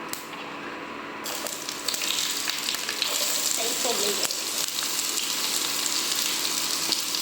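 Sliced onion hits hot oil already crackling with popped mustard seeds, bursting into a loud, steady sizzle that holds near and unbroken, with faint stirring scrapes mixed in.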